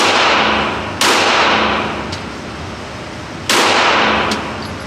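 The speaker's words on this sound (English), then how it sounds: "It's the AK again, man." AK rifle fire in a video game: two loud, cracking shots about two and a half seconds apart, each trailing off in a long echoing decay, with faint clicks between them.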